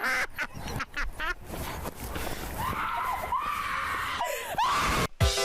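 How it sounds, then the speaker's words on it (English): Loud, piercing screams with rising and falling pitch, mixed with choppy squawking bursts and other cuts in a fast-edited compilation of unusual memes. "What was that screaming?"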